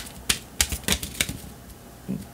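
Tarot cards being handled and one drawn from the deck, giving several quick, crisp snaps and taps, close and fairly faint, with a soft thump at the end.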